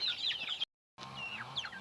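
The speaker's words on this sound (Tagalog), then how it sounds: "sa mga alaga nating mga manok na mga malalaki" Brahma and Black Australorp chickens cluck and chirp softly at moderate distance, with a brief dropout of silence midway before the clucking continues.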